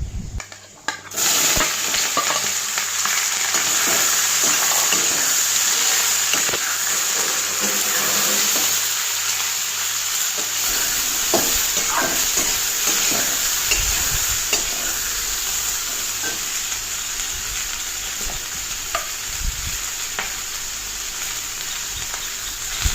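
Boiled peas drop into hot oil with fenugreek seeds and dried chili, setting off a loud, continuous sizzle with scraping stirs and occasional utensil clanks throughout, close and without talk.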